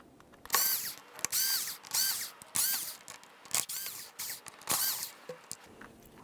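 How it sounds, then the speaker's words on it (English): A power drill backs Phillips head screws out of the grille molding on a 2003-2007 Honda Accord, about six close whirring bursts of rising pitch separated by short pauses. "Remove all those screws."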